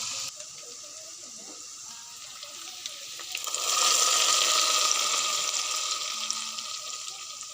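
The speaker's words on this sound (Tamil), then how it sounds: "சின்ன வெங்காயம் காய்ச்சி மிளகா போட்டு கடுகு தாளிச்சிக்கோங்க" Hot oil crackles and sizzles as mustard seeds are tempered with small onions and chillies, the spattering growing louder and busier partway through, with no voices.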